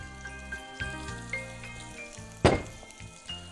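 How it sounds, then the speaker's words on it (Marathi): Ginger and garlic sizzle in hot oil with a steady frying hiss, broken by a sharp metallic clink partway through, over a faint tonal hum in the background. "तेल गरम झालेलं आहे, तेलामध्ये मस्त आलं लसूण गेलं।"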